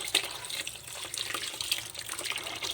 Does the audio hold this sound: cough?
no